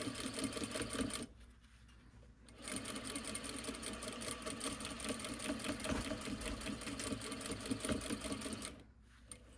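Sewing machine back stitching: a steady, close mechanical whir with rapid needle clatter, pausing briefly for about a second before running again and stopping near the end, with no talking.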